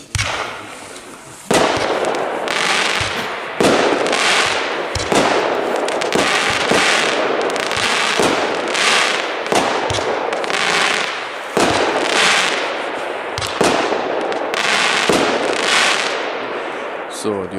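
Consumer fireworks battery in black-red-gold, 30 shots, firing outdoors: a loud, steady run of sharp bursts and crackling pops, one after another, lasting the whole stretch with barely a pause.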